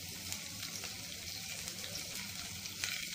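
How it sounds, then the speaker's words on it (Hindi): Finely chopped onion and two green chillies frying in a pan for a turai and chana dal sabzi, a steady soft sizzle with faint stirring scrapes, fairly quiet and continuous. "प्याज को थोड़ा सा सॉफ्ट कुक कर ले रही हूँ, हल्का सा चला कर"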